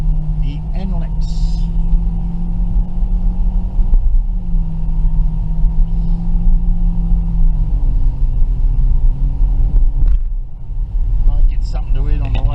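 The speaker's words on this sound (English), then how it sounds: "This car sits on the highway good too because it's new, brand new." A brand-new car cruises along the NLEX highway in the Philippines, with a steady, continuous engine and road rumble filling the interior, and a voice talks over it.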